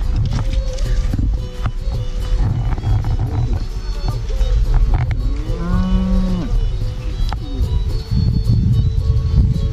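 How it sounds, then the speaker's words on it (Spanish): Cows at a farm near Valle de los Chillos lowing repeatedly, one long nearby moo rising and falling amid rustling, hoof movement and low background voices. "Vaquitas nos están siguiendo."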